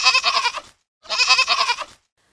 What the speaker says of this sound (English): Now let's listen to the sound of a goat.